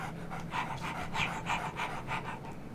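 A dog pants in the Nancy Drew video game Ghost Dogs of Moon Lake, a steady run of quick rhythmic breaths that carries on for the whole stretch with no talk over it.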